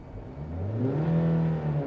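Car engine hums smoothly while driving, a steady mid-pitched drone that rises gently, as if accelerating, then holds without harsh noise, close and continuous.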